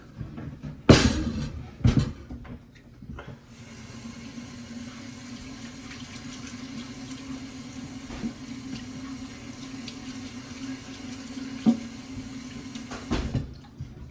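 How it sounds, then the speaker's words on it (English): Tap water runs steadily for about ten seconds while a cutting board is rinsed in a kitchen sink, opened and closed with a few clunks of handling at each end. "Want to rinse off my board."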